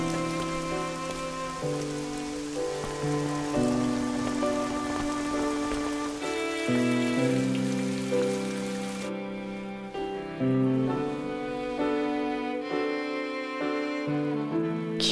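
Soft, steady rain falls in an anime scene, a hiss of drops running beneath a prominent gentle music melody and fading out about two-thirds of the way through, with no voices.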